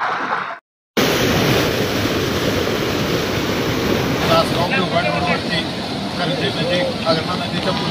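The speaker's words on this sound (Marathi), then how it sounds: "आगरणा नदीच्या पुलावरती पाण्याचा प्रवाह भरपूर वाढलेला आहे" Floodwater from a swollen river rushing over a bridge during heavy monsoon rain, a steady loud roar of flowing water mixed with wind buffeting the microphone, continuous after a brief dropout at the start.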